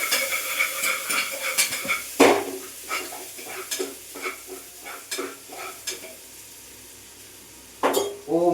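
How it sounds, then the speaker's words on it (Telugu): Ginger garlic paste frying on low heat sizzles softly in a pan while a spoon scrapes and taps the metal in a steady rhythm, close up, with a few sharper clanks and a short quiet pause. "నెక్స్ట్ అల్లం వెల్లుల్లి పేస్ట్ అయితే వేసుకున్నాం. సిమ్లో పెట్టుకొని నీట్గా అయితే తిప్పుకోవాలి."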